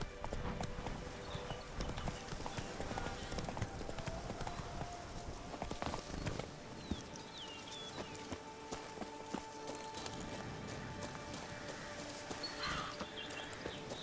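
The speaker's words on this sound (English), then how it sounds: "Whoa there, Roach. That's it, Roach." Horse hooves clip-clop steadily in the video game Witcher 3, a fast rhythmic trotting beat that slows later, with brief talk and ambient game sounds.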